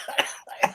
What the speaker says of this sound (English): I can't laugh because I'm coughing.